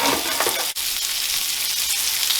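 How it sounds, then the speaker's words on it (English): Steady, loud sizzling of bone-in pork chops frying in a hot cast iron pan, a dense crackling hiss that continues without pause, with one brief dip partway through. "now you can see this stuff sizzling away"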